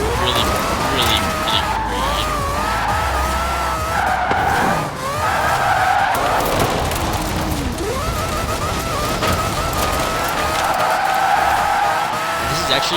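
A Mazda 787B race car in Forza Horizon 4 roars continuously with a shrill high-revving engine, shifting pitch and tire skids, loud and close from start to finish.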